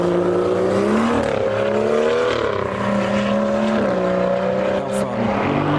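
Audi RS3 drifting on the wet Nürburgring Nordschleife, its engine loud and close, revving and rising and falling in pitch as it slides through the corner.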